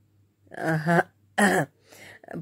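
A narrator's voice performs a short throat clearing in a Bengali audio story: two or three close, gruff bursts in quick succession, then a softer trailing rasp, alone and with no other sound around it.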